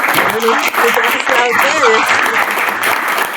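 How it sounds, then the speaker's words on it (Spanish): Applause from the audience at an open didactics class, a steady dense patter of clapping that stays loud throughout, with people talking and calling out over it. "acá quieren aplaudir"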